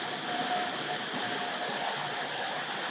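Tri-ang model railway train running steadily along its track, a continuous close rolling rumble with a faint high whine, no talk over it.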